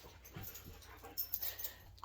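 A young dog whimpering indoors gives soft, brief whines and snuffles that grow a little louder toward the end over a quiet room.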